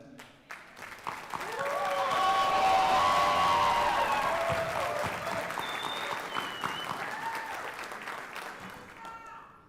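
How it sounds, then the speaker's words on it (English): A crowd at a Miami-Dade Sheriff's Office law enforcement class graduation bursts into loud applause that swells and sustains, mixed with cheers, whistles and scattered voices, then gradually tapers. "I want all of you to clap for those people there"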